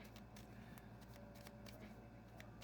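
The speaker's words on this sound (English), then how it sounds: "Meanwhile, I'll be shuffling the cards" Tarot cards are shuffled in a quiet room, giving repeated soft riffling and flicking bursts in an irregular rhythm, faint and close.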